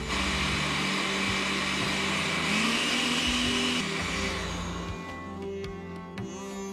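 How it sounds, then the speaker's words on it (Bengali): An electric kitchen mixer grinds a spice paste for steamed pabda fish, its loud, steady whirring motor running continuously before easing and sputtering down near the end. "এবার মিক্সারের সাহায্যে সবকটি উপকরণ দিয়ে একটি মিহি মিশ্রণ তৈরি করে নিন"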